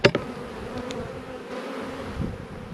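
Honeybees buzz steadily around an open hive while frames are inspected, with a couple of sharp knocks at the start before the close, continuous drone carries on alone.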